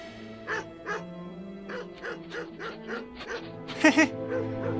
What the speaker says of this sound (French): viens mon chien, viens